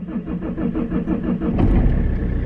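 A car engine starting on a cold December day: a rhythmic cranking chug for about a second and a half, then the engine catches and settles into a louder, rougher running rumble.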